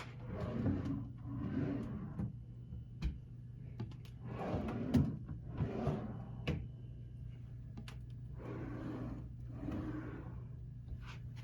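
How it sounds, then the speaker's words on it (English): Drawers in an MGM Grand hotel suite are opened and closed, producing several soft sliding and rumbling strokes in an irregular series, fairly quiet over faint room hum. "Here's your drawers."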